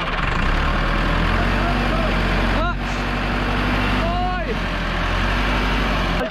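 A tractor engine rumbles steadily at close range on a farm in Pakistan, with brief voice-like calls rising over the constant low drone.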